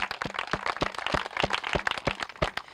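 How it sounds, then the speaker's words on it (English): A small gathering claps at a community garden ribbon-cutting ceremony in a park, a quick, fairly dense patter of hands that sounds faint and distant over background murmur. "Round of applause"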